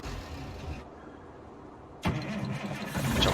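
A Kenworth W900A truck engine in Farming Simulator 19 starts up, a short crank after a quiet idle, then a sudden catch into a loud, deep running rumble close by.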